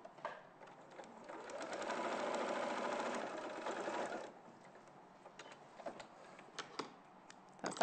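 Sewing machine stitching fabric around a corner, a soft, fast mechanical whirr with ticking that swells to a steady run for a couple of seconds, then drops to quieter intermittent clicks and taps.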